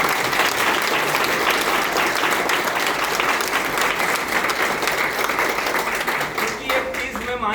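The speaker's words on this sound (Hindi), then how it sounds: "ताली बजाना है तो ईमानदारी से बजाओ।" Loud audience applause at a business event, many hands clapping in a dense, sustained burst that thins slightly toward the end, with a voice talking over the clapping.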